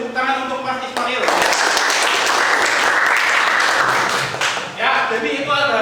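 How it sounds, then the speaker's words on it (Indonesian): A classroom audience at a teacher-training assessment bursts into applause for Mas Ismail, a dense, steady clatter of many hands lasting about four seconds between stretches of a teacher's talk. "mari kita beri tepuk tangan untuk Mas Ismail"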